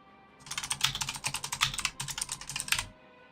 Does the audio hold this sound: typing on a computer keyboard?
yes